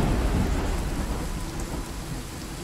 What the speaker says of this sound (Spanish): ¿cómo se escucha la lluvia?